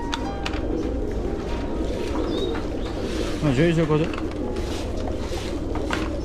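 Pigeons coo nearby in low, throaty warbles over a busy background, while a person talks throughout.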